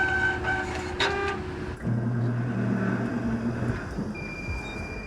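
At a Utah State University parking terrace, a parking gate gives a sustained electronic tone, then a lower buzzing drone for a few seconds, with faint background hum and no talking.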